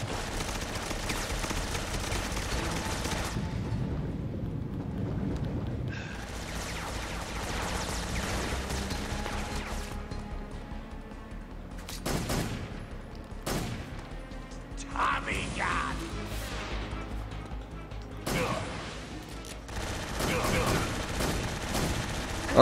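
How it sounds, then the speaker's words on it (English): Automatic Tommy gun fire from the video game Metal Gear Solid 3, with rapid bursts over busy game music and effects, plus a few sharper loud shots later on. "Tommy gun."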